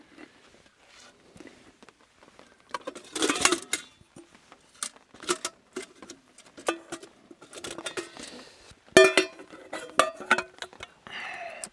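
A Trangia alcohol camping stove being set up at a rainy campsite, its metal parts clinking and clattering in irregular close bursts of sharp knocks and rattles.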